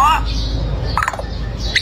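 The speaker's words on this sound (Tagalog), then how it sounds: "Ang klaseng ibon ba to?" Bird chirping and squawking in short, bright calls, up close and loud at the start and again near the end, with a voice talking over it.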